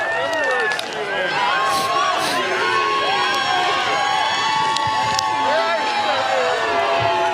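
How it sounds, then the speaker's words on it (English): Crowd at the Iditarod sled dog race finish in Nome, 2019, cheering and chanting for the champion, a dense continuous roar of many voices with whoops and shouts, steady and loud throughout. "you can hear the chants for Pete continuing"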